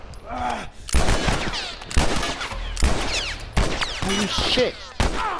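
Rapid, loud bursts of gunfire in The Last of Us striking the player, one volley after another, with a man exclaiming over the shots.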